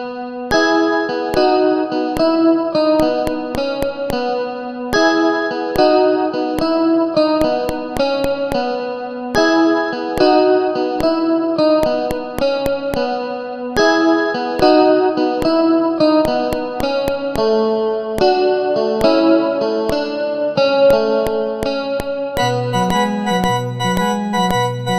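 MIDI mock-up tracks for the intro of a song play layered, sustained synth notes in a steady repeating pattern, with a sharp metronome click ticking evenly throughout and no voices.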